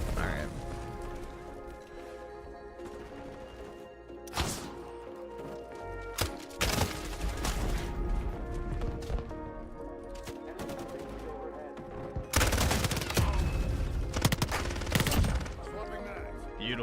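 Rapid machine-gun bursts from the Modern Warfare 4 closed beta, loud and close, firing in clustered volleys with short pauses between them and sharper, heavier salvos near the end.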